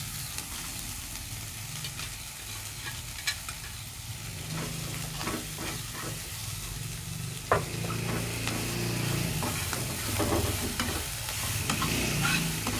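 Ground spice paste with salt, mushroom stock and sugar stir-fried in a pan with chilies, giving a steady close sizzle with scraping stirs and occasional clinks, no talking.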